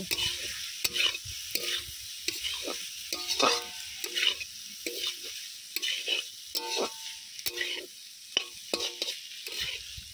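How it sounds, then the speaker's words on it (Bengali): A spoon stirs and scrapes through sizzling banana flower curry with shrimp, chili and turmeric in a pan, making repeated close clatters and scrapes over a soft frying hiss. "সব কিছু আবারও খুব ভালো করে নেড়ে নেব।"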